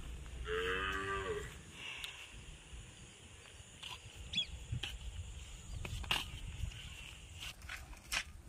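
Cattle mooing on a cow farm, one loud near low moo at the start, followed by quieter farm noises and faint distant animal calls.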